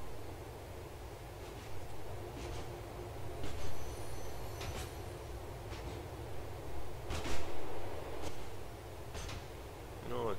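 A train rolls past in the city streets of Grand Theft Auto IV, a low continuous rumble with intermittent metallic squeals and clanks rising and fading, moderately quiet with some game ambience.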